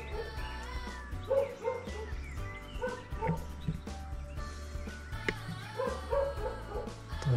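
A small dog barking and yipping repeatedly nearby at the entrance of a rural property, with whimpering sounds between barks over outdoor background noise.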